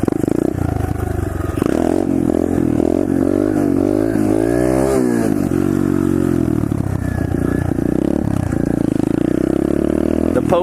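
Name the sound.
pit bike engine revving during a wheelie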